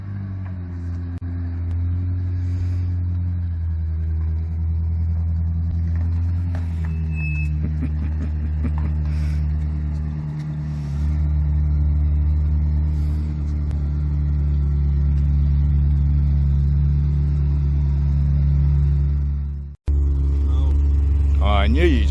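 A Ferrari 360 supercar's engine drones loudly from the driver's seat while driving, a steady low rumble with brief rises in revs and a short cut near the end before it resumes, and voices come through faintly over it.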